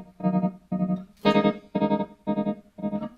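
Electric guitar through a Tremem pedal with two tremolos combined, chopping sustained chords into six even pulses with a faster flutter beneath, moderately loud and alone.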